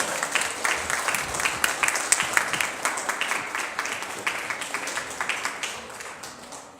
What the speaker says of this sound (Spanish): un aplauso al Señor para ir entrando en calorcito